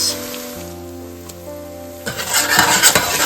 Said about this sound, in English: Give a quick stir. The ginger, the garlic are sauteed already.